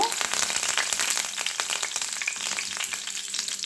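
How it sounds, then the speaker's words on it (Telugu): Mustard seeds, lentils and curry leaves for a Telugu tempering sputter and crackle in hot oil while raw banana fry is being made, giving a dense, steady close-up sizzle that runs the whole time without talk. "ఇప్పుడైతే ఆయిల్ హీట్ ఎక్కింది ఇందులో మనము పోపు దినుసులు వేసుకుందాము"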